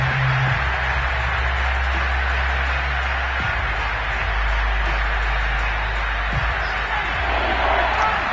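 A roaring home stadium crowd in the Madden 22 football video game, a steady loud wash of noise behind the commentary during a Dolphins vs Falcons game.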